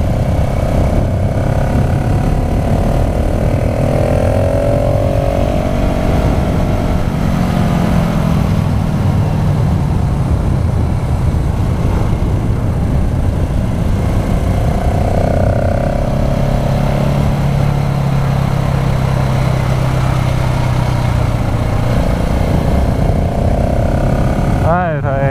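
A KTM 690 SMC R supermoto motorcycle rated at 48 hp is ridden hard on a track, its loud engine droning and rising and falling in pitch through shifts for the whole stretch, with wind buffeting and a rider's voice over it.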